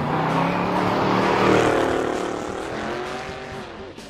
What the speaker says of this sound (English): This is the Mustang Mach 1.